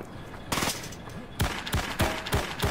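Gunfire in the shooter game IGI 2 Remastered, several sharp bursts of rapid automatic shots close and loud, in quick clusters separated by brief pauses, with no talking.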